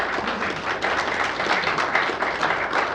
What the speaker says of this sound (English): I hope you're clapping for us, for our team